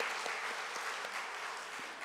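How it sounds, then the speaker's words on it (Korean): Churchgoers at an all-generations Sunday worship service applaud together, a soft, even rattle of many hands heard from a distance and fairly faint, with no talking. "우리 박수 한번 또 하겠습니다"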